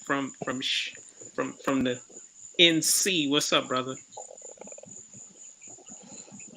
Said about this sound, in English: Yeah, and I hear the crickets too.